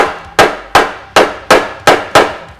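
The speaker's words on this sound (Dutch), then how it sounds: "We pakken een hamertje tik." A small hammer strikes a part on a Tomos moped in a home workshop, six sharp, evenly spaced taps ringing close and loud with short metallic decays between them.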